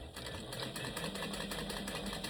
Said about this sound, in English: But this machine does a great job of top stitching.